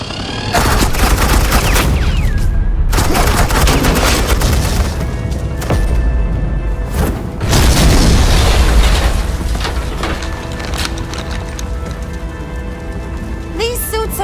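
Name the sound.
suppressing gunfire and explosions in Batman Telltale video game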